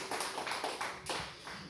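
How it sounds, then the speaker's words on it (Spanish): A church congregation claps in rhythm, several broad, fairly soft claps repeating steadily with no voices heard. "Dale palmas a Jesús, aleluya."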